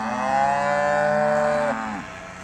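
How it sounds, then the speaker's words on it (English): A five-to-seven-year-old Braford cow gives one long, loud, close moo that lowers in pitch before trailing off, with no other sound around it. "5 to 7 year old cows. Exposed back to Charolais bulls."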